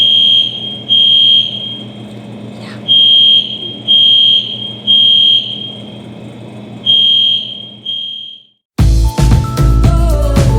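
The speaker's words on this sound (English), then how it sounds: "The fire alarm won't stop going off." High school fire alarm going off repeatedly, a loud piercing electronic beep sounding in evenly spaced long pulses with short gaps, followed at the end by a burst of unrelated music.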